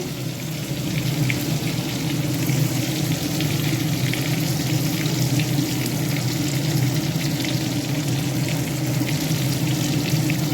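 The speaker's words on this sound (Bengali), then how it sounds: "আর এখানে বেগুন ভাজতে দিয়েছি" Eggplant slices fry in oil in a pan, a dense, even sizzling hiss that holds steady and fairly loud from start to finish without pauses.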